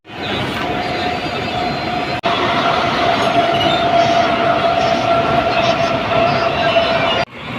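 A crowded Mumbai local train runs from Borivali toward Andheri with a loud, continuous rumble and steady wheel hum from inside the carriage, a brief sharp break midway, and faint chatter beneath.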